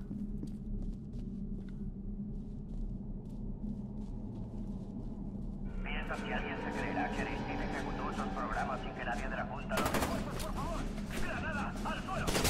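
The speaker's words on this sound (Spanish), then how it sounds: "una reventada con una granada" Loud bursts of gunfire and a heavy explosion in the shooter FEAR 2, layered over a constant low rumble, with a sharp blast near the end that floods the whole range.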